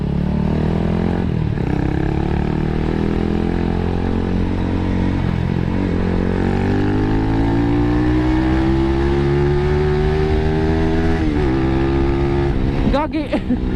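A Kawasaki Z200 motorcycle with a 51mm modified stock muffler, its engine note rising steadily in pitch as it accelerates, loud and close throughout with a rider talking over it.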